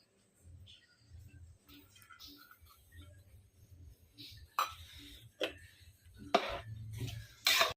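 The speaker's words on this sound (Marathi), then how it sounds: "आता कोथिंबीर टाकून आपण कुकरला झाकण लावूया" A pressure cooker lid is fitted on over soybean pulao, giving a few sharp metallic clanks and knocks in the second half of the clip. Before them come quieter handling sounds at close range.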